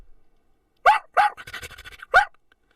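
A person imitates a dog barking with voice alone, three loud, close barks spaced about a second apart, with a short panting run of breathy sounds between the second and third.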